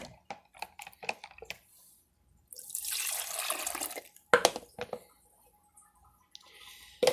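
Warm water poured from a tap for a holiday baking dough, a steady rushing stream lasting a couple of seconds between scattered drips, clinks and handling noises.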